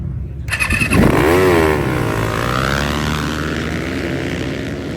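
Dirt bike engines crackle to life at a dead-engine race start, a sudden burst of revving that climbs and sweeps in pitch, then settles into a loud, sustained multi-bike drone.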